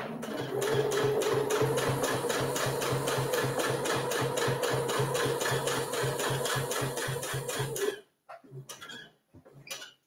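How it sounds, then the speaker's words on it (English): Sewing machine backstitching along the edge of a fabric coffee cup cozy, a close, steady rapid needle rhythm for about eight seconds, then stopping with a few faint handling sounds. "So we're gonna backstitch."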